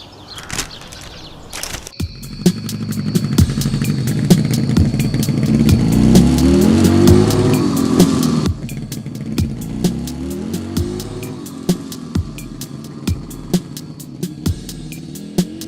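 A motorcycle engine rumbles loudly in the foreground, swelling into a sustained rev with shifting pitch for several seconds before cutting to a quieter idle, with sharp repeated clicks and clatter continuing throughout.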